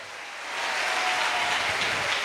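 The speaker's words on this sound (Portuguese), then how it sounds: "Aplauda o Senhor" A church congregation applauds during a Sunday service, a dense, steady wash of clapping that rises within the first half-second and holds at an even level, with no talk over it.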